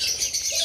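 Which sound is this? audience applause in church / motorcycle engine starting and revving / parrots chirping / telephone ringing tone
parrots chirping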